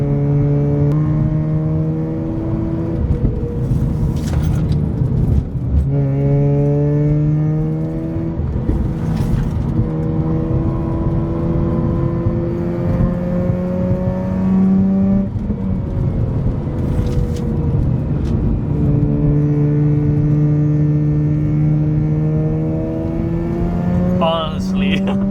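Mazda RX8 driving on icy winter roads, its rotary engine droning steadily with repeated rising and falling revs through gear changes, heard from inside the cabin at close, constant loudness.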